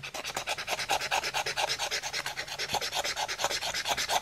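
A lottery scratch card being scratched, a steady run of short, close rasping strokes repeating in a quick regular rhythm with no voice over it.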